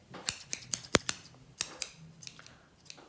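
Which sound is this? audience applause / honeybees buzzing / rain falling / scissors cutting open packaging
scissors cutting open packaging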